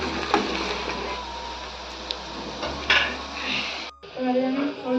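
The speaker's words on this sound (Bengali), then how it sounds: "দিয়ে রসুনটাকে একটু ভালো করে নেড়ে নেবো।" Garlic and fried onions are stirred in a pan, a spatula scraping and clinking against the metal over a soft sizzle, with a brief break near the end before the stirring resumes.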